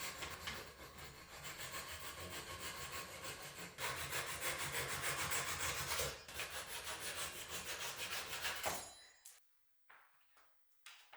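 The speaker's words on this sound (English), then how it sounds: "Let's cut off the excess pieces of the splines by using a Japanese hand pull saw." A Japanese hand pull saw cuts through protruding spline pieces on a woodworking piece, giving steady, close rasping strokes that run for about nine seconds before stopping, followed by a few faint knocks and near silence.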